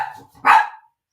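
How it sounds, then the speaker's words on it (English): A single loud, close dog bark rings out indoors, preceded by a brief softer vocal sound, then silence. "Honestly, dogs."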